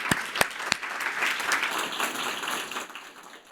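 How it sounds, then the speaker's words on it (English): Audience applause fills the hall at the 2019 Commonwealth Awards ceremony, dense continuous clapping with a few sharp nearby claps standing out, fading slightly toward the end. "another round of applause, please."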